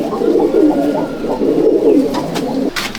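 An Andhra pigeon coos steadily and loudly at close range, its low rolling phrases repeating in two long swells, with a few faint clicks near the end.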